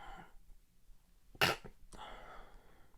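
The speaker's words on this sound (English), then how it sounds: "I always hold my sneezes in because I always feel bad making noise." A single stifled sneeze is held in, a brief sharp muffled burst rising out of quiet room tone, close to the microphone.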